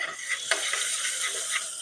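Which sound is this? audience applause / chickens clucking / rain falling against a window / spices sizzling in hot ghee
spices sizzling in hot ghee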